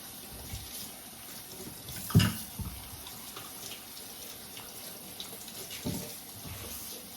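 Tap water runs steadily into a kitchen sink while ingredients such as ginger are rinsed for ahi tuna kinilaw, with a brief clatter of handling partway through.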